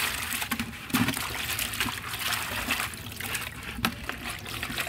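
Water trickling and splashing as it is poured out, a steady close dribble with small splatters throughout.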